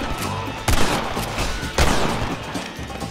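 Gunfire crackles in Red Dead Redemption on PC during a shootout at a shack, two sharp loud reports standing out over a noisy ongoing fusillade.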